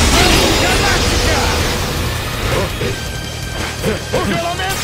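A Saint Seiya fighting game's Galaxian Explosion attack bursts out as a loud crashing blast, followed by rumbling, smashing impact noise that fades over a few seconds, with shouting voices mixed into the din.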